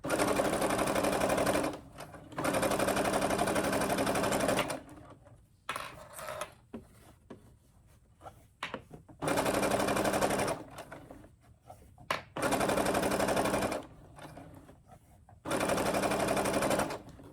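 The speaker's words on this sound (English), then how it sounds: "So now I can start sewing forward, and that previous turn is locked in." Brother sewing machine stitching fabric in fast, steady bursts of a few seconds each, with short quiet pauses between runs as the fabric is repositioned; close and fairly loud.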